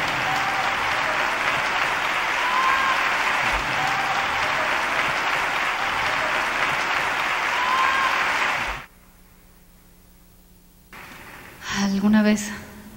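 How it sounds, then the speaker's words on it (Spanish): A large concert audience breaks into loud, sustained applause that fills the hall for several seconds, then drops away abruptly to near silence before a brief burst of sound and voice returns. "Un aplauso grande"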